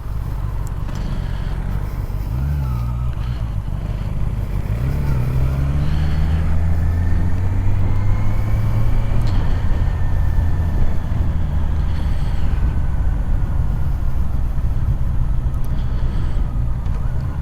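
A Honda CBR650R E-Clutch motorcycle cruising, its engine a continuous loud drone with smooth rising and falling pitch as it rides along, heavy wind rumble underneath.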